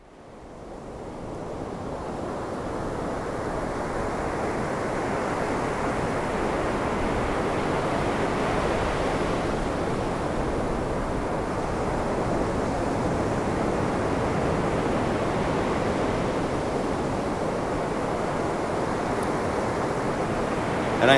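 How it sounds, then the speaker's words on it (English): Ocean waves breaking along the Costa Rican coast make a steady, full roar of surf that swells in within the first second and then holds constant and close for the whole stretch, with no voices. "the ocean, that picture I showed you, the ocean, it sounds like this."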